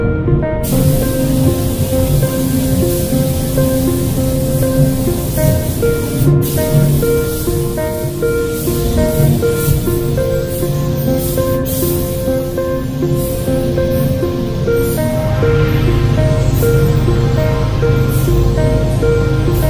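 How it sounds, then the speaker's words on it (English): A spray gun lays a wet second coat of paint on a panel inside a body shop booth, a steady loud hiss of atomized spray running without a break beneath the constant drone of booth ventilation. "The second coat now, a little bit wetter, nice wet coat over this"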